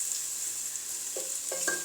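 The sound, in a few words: chopped squash added to frying onions in pan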